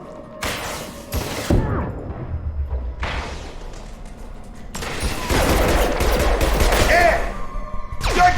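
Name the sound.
gunfire in video game Mass Effect 2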